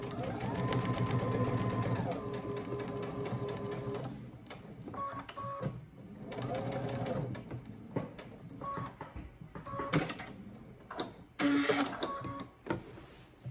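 Sewing machine stitching fabric along a 5/8 seam allowance for a McCall's M7831 pattern, running in close, loud bursts that stop and restart several times, each burst a steady mechanical whir.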